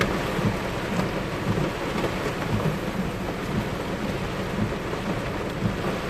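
Heavy rain pours steadily at night in Seoul during a downpour warning, a dense unbroken hiss with low rumbling thunder underneath throughout.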